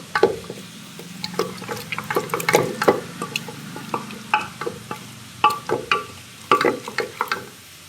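Water is splashed into frying spices for dal, with liquid sizzle, stirring and dripping clatters in a pan, close and fairly loud in uneven bursts.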